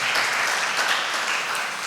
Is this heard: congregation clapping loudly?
yes